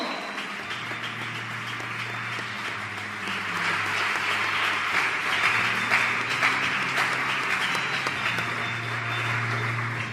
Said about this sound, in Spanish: Un fuerte aplauso a Dios, por favor.